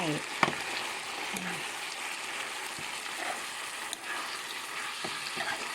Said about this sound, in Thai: ผัดพริกแกงใต้